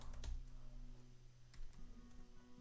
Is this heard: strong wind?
no